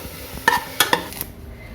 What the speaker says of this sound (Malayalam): ഗാർണിഷ് ചെയ്യാനുള്ള സബോള അത് നമുക്കിങ്ങനെ കോരിയെടുക്കാം